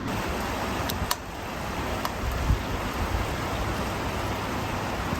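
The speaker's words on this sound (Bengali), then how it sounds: "আল্লাহ রহমতে বৃষ্টি হচ্ছে" Steady rain pours down in a dense, even hiss, with a few faint knocks and drips.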